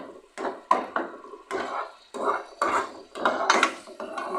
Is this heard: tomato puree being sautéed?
yes